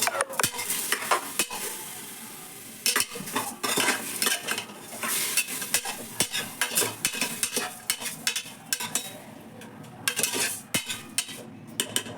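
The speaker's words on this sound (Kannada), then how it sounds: "ಫ್ರೈ ಆಗ್ತಾ ಇದೆ" Biryani ingredients fry in a pan with a steady sizzle, while a utensil repeatedly scrapes and clanks against the metal in irregular bursts of stirring, close and fairly loud with no talking.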